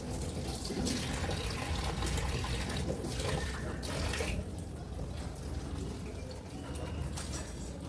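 Spinach being washed in water: continuous splashing and running water, close and fairly loud, rising briefly then settling into lighter sloshing.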